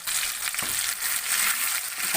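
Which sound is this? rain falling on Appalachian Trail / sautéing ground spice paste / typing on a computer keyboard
sautéing ground spice paste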